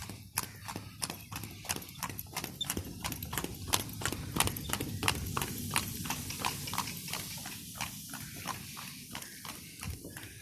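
Steady clip-clop of horse hooves on a village road, pulling a cart, a continuous even trotting rhythm heard up close at moderate level for the whole stretch, with faint background noise.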